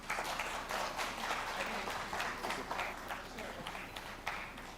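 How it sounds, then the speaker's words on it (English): Audience applause at a WordCamp Kerala 2023 memento-giving ceremony, a moderate wash of clapping sustained throughout with faint voices mixed in. "A round of applause"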